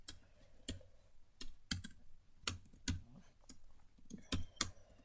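Someone types Java code on a computer keyboard, producing crisp, close key clicks in irregular bursts with short pauses between them, with no talking.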